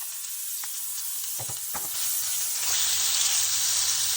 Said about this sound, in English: Just fry this ginger garlic paste for some 30 seconds.